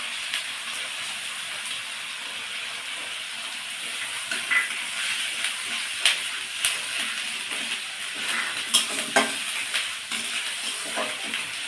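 Onion and garlic paste frying in a pan for rohu fish kalia, a steady broadband sizzle with scattered stirring clicks and spatters growing busier toward the end, no voices.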